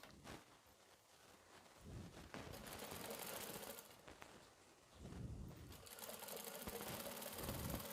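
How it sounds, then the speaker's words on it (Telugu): A sewing machine stitches a seam along the top side of a kurti, with a fast, continuous mechanical whir that starts and stops in bursts, close and fairly faint. "దీనికి కూడా పై వైపు నుంచి ఇలా కుట్టు వేసుకోవాలి."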